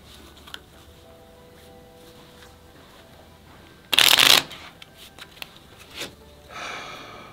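A deck of cards is shuffled during a board game, giving one short, loud riffling burst in an otherwise quiet room, followed by a few soft card handling taps.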